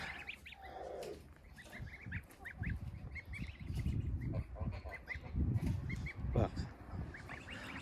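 Several greylag geese honk and cackle in short repeated calls, some near and some farther off, over a low background rumble.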